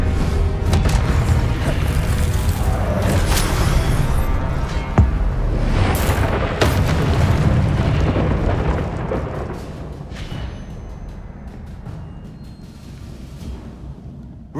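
Spell blasts and explosions in the video game Hogwarts Legacy, a run of loud booming bursts and crashes that rumble on continuously before easing off toward the end, with no speech.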